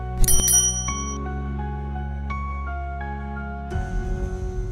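A bicycle-style bell rings twice in quick succession, bright and close, then sustained chime tones ring out and fade under a steady hum.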